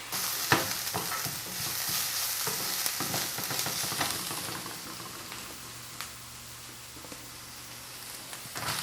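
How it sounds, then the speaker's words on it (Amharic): Carrots and onions fry in a pan for spring rolls, a steady soft sizzle with a stirring scrape near the start and occasional clicks, no voices. "ለዚህ ካሮቴን ከሽንኩርቴ ጋር ትንሽ ጠብሳለሁ"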